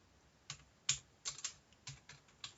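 Typing on a computer keyboard while recording a spreadsheet macro, a handful of faint, scattered key clicks with uneven spacing, one slightly firmer press among them, quiet and close with no voices.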